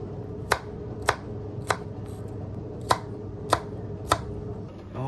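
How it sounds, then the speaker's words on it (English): Fresh vegetables chopped on a board: six sharp knife strikes at a steady, unhurried pace, close and crisp over a low background hum. "We're gonna cut our fresh ingredients."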